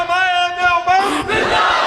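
A chant leader's call at a religious gathering in Khushab draws a loud, unified shout of a religious slogan from the audience. A single voice comes first, followed quickly by a dense crowd roar.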